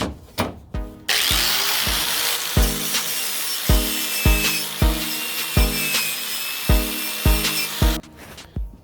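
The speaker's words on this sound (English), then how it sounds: "we're going to use the wire brush to try and get these other little small parts, small little crevices on it" A wire brush, likely power-driven, scrubs small crevices on a metal exhaust pipe before welding, a harsh whirring grind in repeated short passes with a thud at each stroke, close and loud, with no talk.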